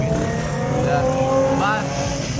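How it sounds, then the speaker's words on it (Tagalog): Dense road traffic at night, a steady engine and tyre roar with a couple of short tonal horn-like sweeps cutting through the close, continuous din. "Sobrang traffic"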